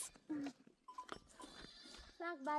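Goats bleat nearby in a rural Udayapur, Nepal setting, several short wavering calls at the start and end, with people talking in between and a faint bell.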